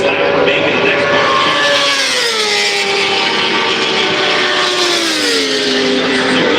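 A racing motorcycle at the Daytona 200 rolls into pit road, its loud, continuous engine whine sliding down and rising again in pitch as it slows and passes close by, with no talk over it.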